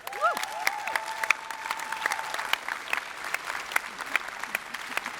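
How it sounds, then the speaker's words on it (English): Scattered clapping from an audience at a Magic: The Gathering convention in Amsterdam, uneven and moderately loud, with a few short whistles or electronic chirps at the start. "send them home with a wonderful round of applause"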